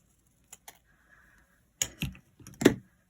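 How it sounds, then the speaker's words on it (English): Scissors snipping across paper strips held together for a card, a few sharp, crisp cuts spaced apart against near silence, louder toward the end. "I'm just going to hold them together and snip across"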